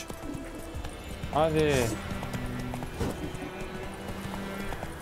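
Roach the horse gallops in The Witcher 3 with rhythmic clip-clop hoofbeats and a loud neigh partway through, while a player talks over the game sounds.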